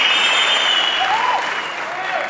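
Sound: audience applauding

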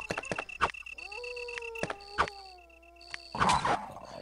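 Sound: dog in video game Resident Evil DS

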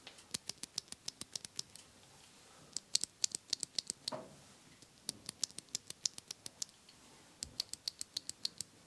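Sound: scratchy Kale Box Royal keyboard switches being pressed

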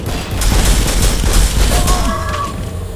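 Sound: pulse rifle firing in the video game Turok

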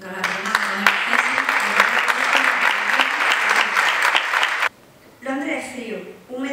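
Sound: audience applause for an award winner

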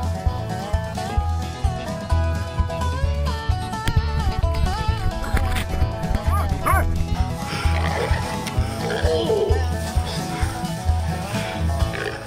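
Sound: pig hunting dogs barking and whimpering

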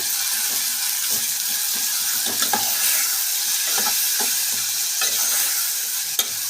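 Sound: stirring tomatoes with salt and turmeric in pan

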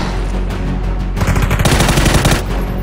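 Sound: gunfire in the video game PUBG

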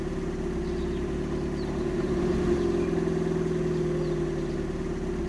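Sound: car engine started and running

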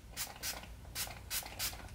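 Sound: spraying brush cleaner onto a makeup sponge

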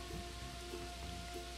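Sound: rain sound effect in a read-aloud children's book

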